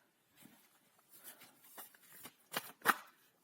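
Tarot cards shuffled and handled in a quiet room, a run of soft riffling and flicking bursts with a couple of sharper snaps near the end, close and fairly faint.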